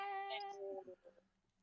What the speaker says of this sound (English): this is my cat who is doing better now